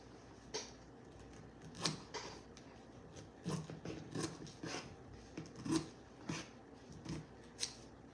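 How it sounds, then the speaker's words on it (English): Scissors cut through fabric for a pancake-style wreath, giving quiet, close, irregular snips and rustles spread across several seconds. "I'll just use the scissors."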